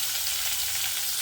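Broad beans sauteing in a pan give off a continuous, close hiss of frying, even and unbroken for the short stretch.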